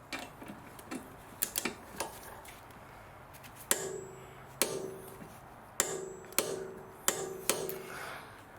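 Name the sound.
torquing a suspension arm bolt on an Audi A4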